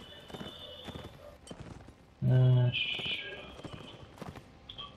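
Cavalry horse hooves clip-clop in a video game battle, a burst of quick hoof beats with a brief loud low thump partway through, heard under casual chatter among players.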